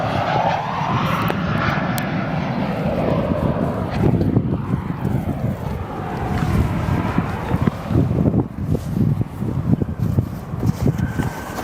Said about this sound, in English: Like this one, Southwest Airlines, Boeing 737, arriving from Denver.